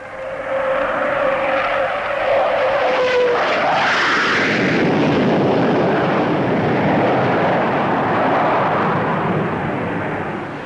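A Vickers Valiant long-range jet bomber flying overhead, its high whine sliding downward before a loud, broad jet roar sweeps in and holds, slowly easing off at the end, with no voices.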